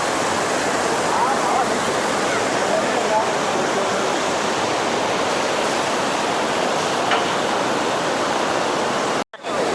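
Water at the Courtallam waterfall pours down in the rain as a dense, continuous rushing roar, loud and steady throughout, with a brief dropout near the end.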